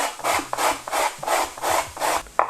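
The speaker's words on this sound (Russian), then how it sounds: "Морковку натираем, наверное, на мелкую терку." A carrot is rubbed rhythmically over a fine grater, five or six rasping back-and-forth strokes, close and clear with no speech.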